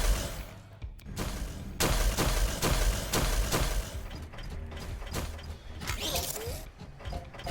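Machines in the puzzle game Infinifactory processing meat and blubber, with rapid mechanical ratcheting, clanking gears and dense bursts of impacts repeating steadily and loudly, with no talking.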